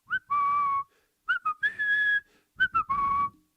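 Someone whistles a short tune in three bursts of sustained, clear notes with brief pauses between, close and fairly loud.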